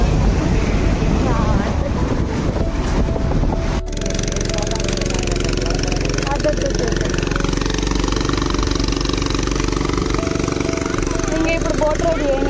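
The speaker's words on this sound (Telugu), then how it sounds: "ఇప్పుడు బోట్ రైడ్ చేయనియారు కదా." A motor boat runs steadily on the flooded Godavari river in August, its engine droning loud and continuous with wind buffeting the microphone, and a voice briefly heard early on.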